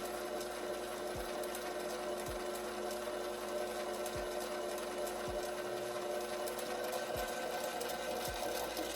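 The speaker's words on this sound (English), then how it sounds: "you turn the cutter on, and you bring it in, and it cuts until it stops" A power case trimmer steadily cuts a 30 Herrett rifle case, giving a continuous mechanical whir with faint periodic clicks roughly every second, heard close and alone with no talking.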